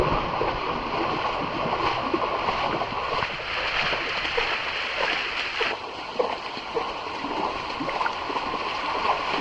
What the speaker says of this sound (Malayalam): അതൊക്കെ ശരിക്കും നിറഞ്ഞ് തുളുമ്പിട്ടാണ് ഒഴുകിക്കൊണ്ടിരിക്കുന്നത് പുഴയൊക്കെ